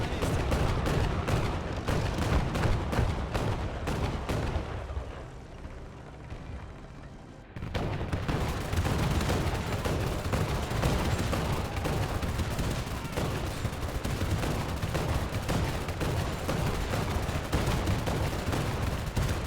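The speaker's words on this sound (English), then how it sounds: "They are still trying to fucking bomb me." Men of War II battlefield: close, loud bursts of gunfire and booming bomb and artillery blasts pound almost nonstop, briefly easing to a quieter rumble before the barrage resumes at full force.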